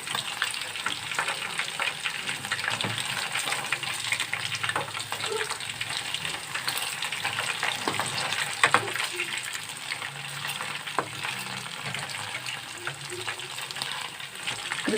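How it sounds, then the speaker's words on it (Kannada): Mutton grill kebabs fry in hot oil in a pan with a steady, loud crackling sizzle, broken by occasional stirring scrapes as the pieces are turned. "ಕ್ರಿಸ್ಪಿ ಬರೋವರೆಗೂ ನೀವು ಫ್ರೈ ಮಾಡ್ಕೊತಾ ಇರಬೇಕು"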